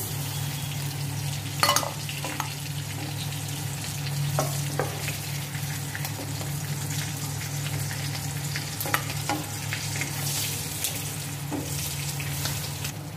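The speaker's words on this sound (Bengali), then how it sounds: "আমার চিংড়ি ভাজা হয়ে গেছে" Prawns fry in oil in a pan, making a steady, close hiss of sizzling broken by a few sharp clinks and scrapes of a spatula over several seconds.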